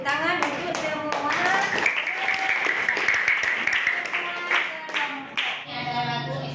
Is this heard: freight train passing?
no